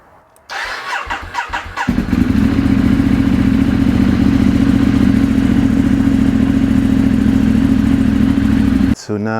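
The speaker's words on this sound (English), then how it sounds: "now we're just gonna make sure that the bike starts properly before we continue." A Ducati 848 motorcycle cranks over briefly, then fires and settles into a loud, steady idle that runs close and continuous, without pause, before cutting off near the end.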